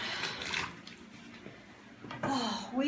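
Water splashing and running in a bathtub while laundry is rinsed to get the soap out, coming in uneven bursts of sloshing and pouring, fairly close and moderately quiet.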